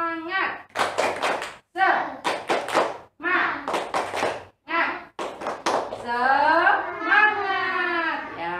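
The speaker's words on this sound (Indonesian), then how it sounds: "mari kita melakukan tepuk semangat biar kita lebih semangat dalam mengikuti pembelajaran" Young schoolchildren in a classroom perform a rhythmic clap-and-chant cheer (tepuk semangat), sharp clap bursts alternating with shouted chanting voices, close and loud, ending in a sustained group shout.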